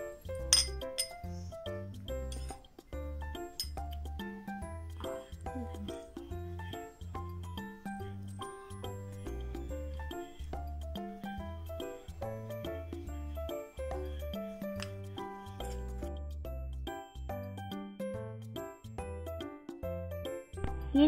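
A spoon clinks repeatedly against a container while honey and sugar are mixed into a lip scrub, the light taps coming quick and close, with no voices.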